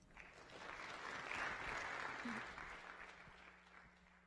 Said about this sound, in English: let's give a big round of applause here for Jeff Feige